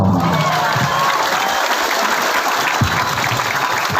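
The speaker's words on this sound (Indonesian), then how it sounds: "Tepuk tangan dulu loh." Loud, sustained applause from a large crowd, dense and continuous throughout.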